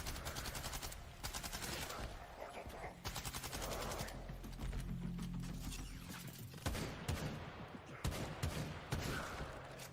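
Rapid bursts of automatic gunfire and shots in an action video game, dense and loud across the whole stretch with brief gaps, mechanical clicks in between.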